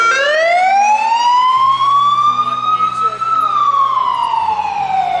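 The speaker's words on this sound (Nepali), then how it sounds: "ठिक त्यसै बेला एउटा बारुण यन्त्र साइरन बजाउँदै आयो।" A fire engine siren wails loud and close, one long rising and falling tone sweeping slowly over several seconds above a low rumble of traffic.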